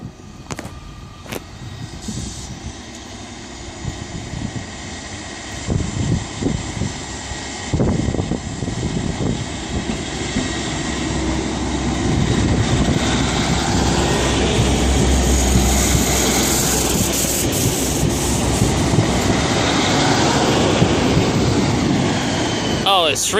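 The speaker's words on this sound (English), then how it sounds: "we've got the train on platform 6 now going out" A train departs from platform 6 at Exeter St David's station on a Sunday evening, its engine rumble swelling steadily from moderate to loud with scattered clunks, while people talk nearby.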